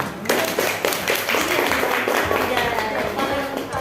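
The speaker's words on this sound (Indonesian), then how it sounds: "terima kasih tepuk tangan" A class of schoolchildren claps together, a close, loud burst of quick, slightly uneven hand claps with thumping taps running steadily to the end.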